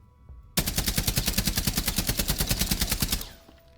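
Pulse's gun in Rainbow Six Siege fires one loud, steady full-auto burst of about 30 rapid evenly spaced shots lasting roughly two and a half seconds, then cuts off abruptly.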